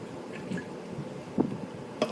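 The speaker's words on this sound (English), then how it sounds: "I'll take a sip of water." A person takes small sips of water close to the microphone, giving a few soft wet slurps and gulps spaced out over a quiet background.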